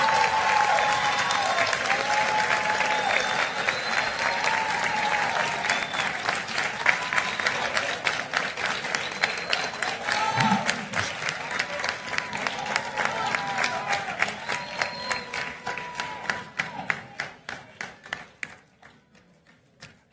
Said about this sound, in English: join me in giving your family and friends a round of applause